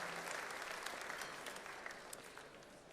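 An awards-show audience at the Juno Opening Night Awards gives a steady round of applause, a continuous wash of many hands clapping at a moderate distance in a large hall.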